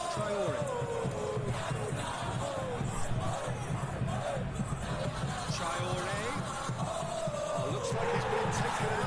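A stadium crowd in the football video game PES 2021 roars and chants steadily throughout, a dense sustained wall of cheering with a commentator's voice talking over it.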